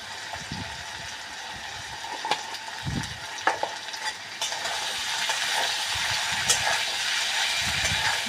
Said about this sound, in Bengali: তারপর আমি সবজিগুলো দিয়ে দিচ্ছি, লবণ, হলদি পাউডার, লঙ্কা পাউডার, কাশ্মীরি লঙ্কা দিয়ে দিচ্ছি।